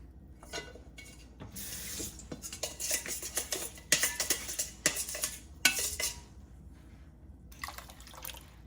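A utensil stirs a Liang Fenh starch mixture in a bowl to break up lumps, making irregular clinks and scrapes in quick bursts with short pauses, close and fairly quiet.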